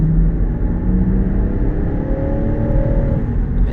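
A 2022 Land Rover Defender 110 X-Dynamic accelerates from inside the cabin, its engine note rising steadily to a loud, continuous rumbling growl with no break over a few seconds.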